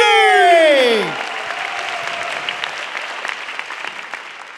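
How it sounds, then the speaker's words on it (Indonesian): A fading, pitch-falling voice or sound effect gives way to a studio audience at a stand-up comedy grand final in Indonesia breaking into sustained, lively applause with scattered cheers. "Beri sambutan yang paling meriah untuk Yono Bakri"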